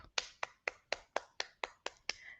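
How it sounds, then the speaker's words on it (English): A run of about nine sharp hand claps, evenly spaced in a quick steady beat, faint and close, with nothing else sounding. "Hand clap."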